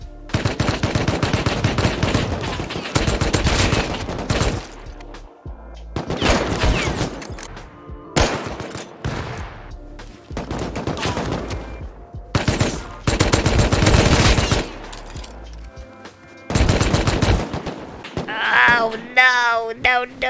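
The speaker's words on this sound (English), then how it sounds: "I headshot one and I body shot the other." Gunfire in the game Rust, loud repeated bursts of rapid shots in several clusters separated by short pauses, with brief voices and game sounds between volleys.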